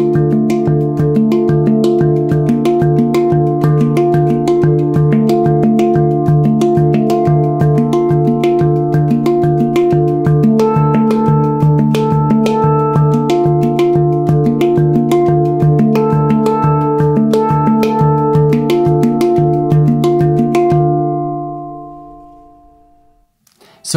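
A handpan plays a short composed sequence with added harmony and a B section, steady repeated ringing strikes with sustained overtones, loud and close, ending in a long decaying fade.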